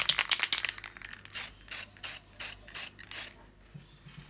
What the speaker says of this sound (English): I'm going to take this gloss clear spray paint and just seal all the glitter in.